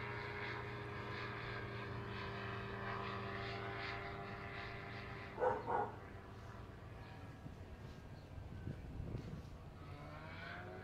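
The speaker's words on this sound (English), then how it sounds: "Dog about 20 pounds barking like he big." A small dog of about 20 pounds gives two quick barks midway, nearly buried under the steady drone of a propeller aircraft engine.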